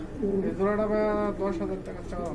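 A pair of black running pigeons coos softly in a brief low burble, overlapped by someone speaking nearby.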